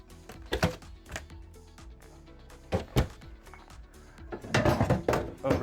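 Kitchen drawers and cabinet doors in a Thor Motor Coach Inception 38DA RV are opened and shut repeatedly, giving irregular wooden thunks and clicks, with a busy cluster of knocks near the end.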